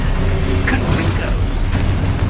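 A Confringo blasting spell in Hogwarts Legacy bursts into a dense, booming explosion with a rumbling low-end roar and crackling debris, loud and sustained throughout with a voice faintly under it.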